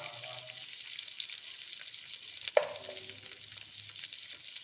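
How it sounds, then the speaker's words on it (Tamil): Vegetables including carrot sautéing in a pan for paneer biryani give a steady soft sizzle with light stirring and one sharp clatter midway, close and moderately quiet with no talk. "இது எல்லாம் ஒரு 2 நிமிஷம் நம்ம வதங்கட்டும்"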